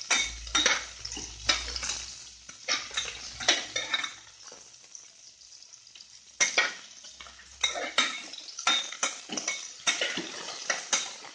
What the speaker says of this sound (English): And fry them nicely till they sweat and become slightly golden